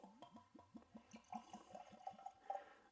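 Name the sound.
Glenlivet Founder's Reserve whisky poured from bottle into glass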